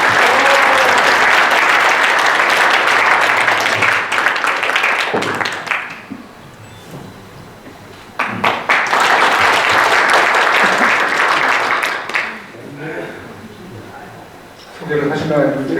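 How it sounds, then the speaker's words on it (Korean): An audience at a formal general meeting and inauguration ceremony applauds loudly to welcome a new president, sustained clapping in two long waves with short gaps, while a voice speaks over the quieter stretches. "김인수 회장님을 큰 박수로 모시겠습니다."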